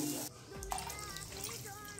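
A glass of water splashes into a pan of spices, chili, turmeric and salt for a Maharashtrian fasting sheviyachi baat, with a brief pour and then running liquid under a voice.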